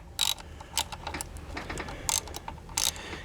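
A hand ratchet on a small extension tightens a nut on a bracket of a Chevy Blazer Vortec engine during thermostat replacement, giving several short, sharp clicking bursts close by.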